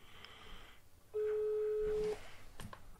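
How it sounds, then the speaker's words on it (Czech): A telephone ringing tone sounds on a call: one sustained electronic tone lasting about a second, faint over a quiet background hum. "Tak teď to vyzvání i telefon."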